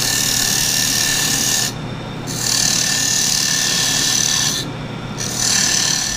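A round nose scraper cuts a wooden bowl on a lathe with a loud, steady rasping hiss, briefly easing twice as the tool lifts between passes.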